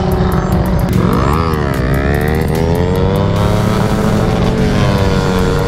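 A 250cc motorcycle pulls a wheelie during a group street ride. The engine revs loudly and rises and falls in pitch as the rider works the throttle, sounding very close, continuous and unbroken by speech.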